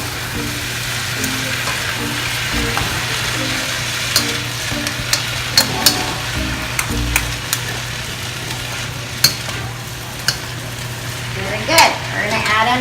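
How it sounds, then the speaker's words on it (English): Pancit bihon rice noodles stirred and frying in a pan, giving a steady close sizzle with scraping and clacks from the utensils, while a person speaks over the cooking. "Add that in there, mix everything around."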